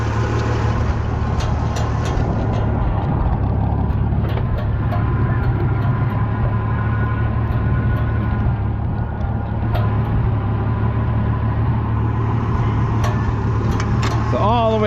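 A 1650 tractor drives along in four-wheel drive, its engine putting out a loud, steady, close rumble with a low drone that holds without a break.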